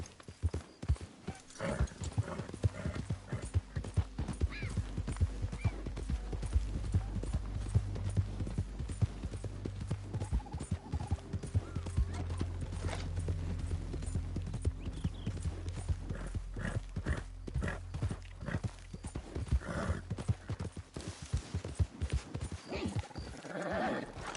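Horse hooves clip-clop steadily in the video game Red Dead Redemption 2, a brisk continuous rhythm of hoofbeats with an occasional whinny and faint voices in the background.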